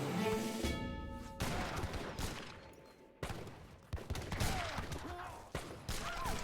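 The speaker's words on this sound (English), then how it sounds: "Now the organ guns come in." Organ guns firing in the Age of Empires strategy game, with rapid bursts of volleyed gunfire in repeated waves over a busy battle din.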